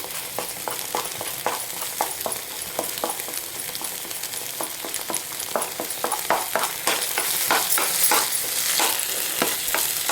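Wheat flour sautéed in ghee for halwa, stirred steadily with a spatula, giving repeated scraping strokes over a constant soft sizzle, close up and with no voices.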